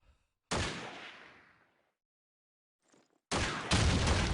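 Trick grenade blasts in Call of Duty 2, a sharp loud explosion with a long fading tail, silence, then a second heavy burst of blasts or gunfire near the end.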